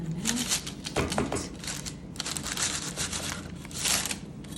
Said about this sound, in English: Take a trusty knife, let me cut in the middle.